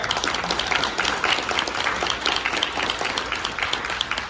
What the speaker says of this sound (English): So let's give a round of applause to Ginger.